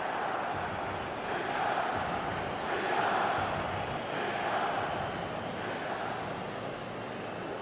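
A stadium crowd in the eFootball video game makes a dense, steady roar that swells slightly near the middle and then settles, continuous and distant, with no clear voices above it.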